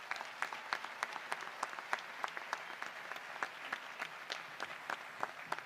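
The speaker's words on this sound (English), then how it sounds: "Yes, you can clap." A graduation audience at Clint High School claps, sounding faint and somewhat distant, with scattered individual claps standing out over a soft, steady patter.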